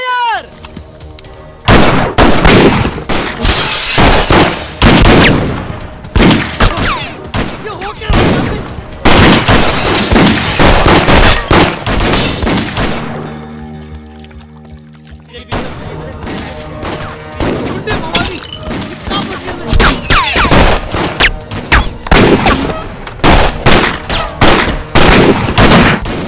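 Film comedy scene gunfire: loud, dense volleys of shots and bursts like machine-gun fire over long stretches, broken by a brief quieter gap, close and overwhelming, with occasional voices mixed in.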